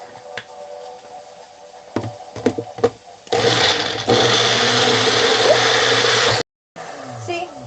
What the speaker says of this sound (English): So I have a magic bullet.